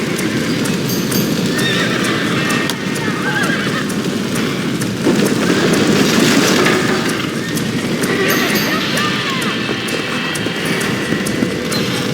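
Horses neigh and whinny over continuous clip-clopping hooves, with voices calling out amid the commotion, in the video game Red Dead Redemption.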